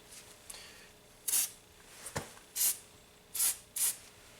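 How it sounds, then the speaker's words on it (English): Four short hissing bursts of Fluid Film aerosol lubricant sprayed onto U-joint flanges, each lasting under a second, with a sharp tap between them in an otherwise quiet space. "spray these flanges down with a little bit of fluid film"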